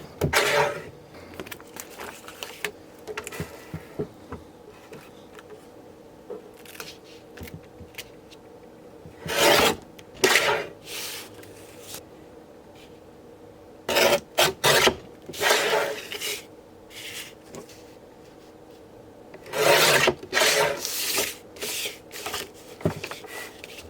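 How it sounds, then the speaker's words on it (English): Edges of layered decal vinyl being trimmed, heard as scattered rasping, scraping strokes, with louder bursts of cutting near 9, 14 and 20 seconds over quiet handling noise, close and without speech. "Now let's trim the edges so it look presentable for the customer."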